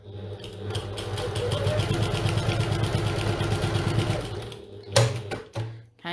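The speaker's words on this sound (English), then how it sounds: "I'll do that now on my trusty Janome HD9" A Janome HD9 sewing machine stitches through four layers of fabric along a triangle corner line, its motor humming at a steady rapid rhythm for about five seconds before stopping with a few short bursts of backstitching.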